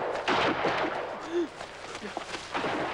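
Gunfire in a 1988 drama film, a cluster of sharp, fairly close shots and cracks over a few seconds, mixed with shouting voices.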